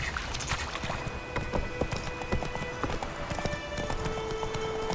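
Roach, a horse in The Witcher 3, galloping in steady rhythmic hoofbeats with a brief whinny and a faint background score.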